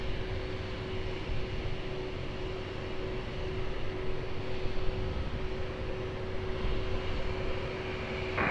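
Aircraft engine noise at Lisbon Airport, a steady broadband roar with a faint constant tone running underneath, holding level throughout without clear rise or fade.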